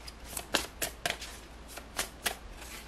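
Tarot cards are riffled and shuffled close by in quick, crisp bursts, about eight sharp papery flicks spread unevenly across a quiet room, with no talking.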